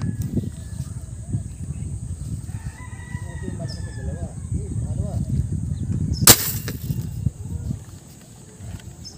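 A single sharp gunshot cracks once during tilapia hunting at a fish pool, sudden and loud against murmured outdoor ambience, with roosters crowing and clucking nearby and people talking.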